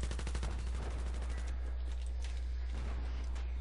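Rapid gunfire rattles through a Battlefield 3 match on Wake Island, dense automatic bursts in the first seconds giving way to scattered shots and a loud rumbling battlefield din.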